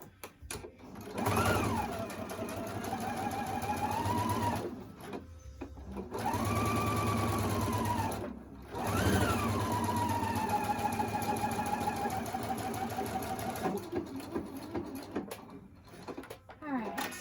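A sewing machine stitches a rectangular fabric mask in several long runs separated by short pauses, its motor whirring close and steady with a rising pitch at the start of each run.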